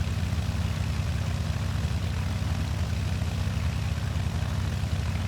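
Steady droning piston engine of a Beech V35B Bonanza light aircraft as simulated in X-Plane, a constant low propeller hum and rumble holding evenly throughout with no talk.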